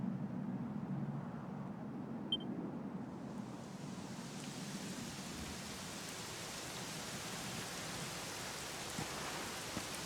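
Steady rain in the video game Dragon Quest XI hisses evenly throughout, a dense broadband wash with a low rumble underneath, constant and fairly close, with no voices.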